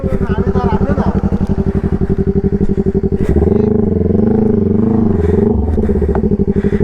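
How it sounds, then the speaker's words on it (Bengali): A small motorcycle stuck in sand revs hard, its engine droning loud and steady, then rising into a strained, wavering pitch as it works to pull free. "এত ছোট বাইক যদি আটকে যায়"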